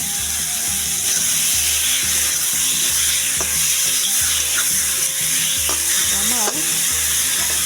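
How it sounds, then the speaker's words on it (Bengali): Eggs and potatoes are stirred into a cooked-down spice paste for a Bengali egg curry, giving a loud, close, continuous sizzle broken by scraping stirs of the spoon, with no speech. "মশলাটা কষানো হয়ে গেছে, এবারে ডিম আলুটা দিয়ে দিই"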